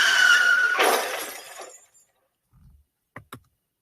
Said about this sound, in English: one just crashed their car right into the studio